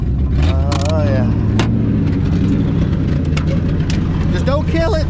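A brand new engine running steadily after it stopped smoking, a loud continuous low idle throughout, with voices talking over it.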